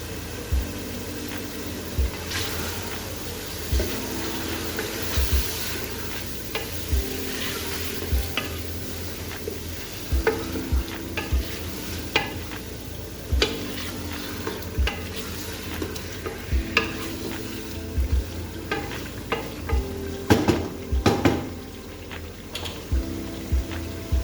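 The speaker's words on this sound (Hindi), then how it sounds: "मसाला ऐड करने के बाद मैंने इसको तकरीबन 5 मिनट भून लिए" Chicken pieces with a Mehran spice mix for haleem sizzle steadily in oil in a pan, with regular scraping and clinking strokes as they are stirred, close and fairly loud, with no talking.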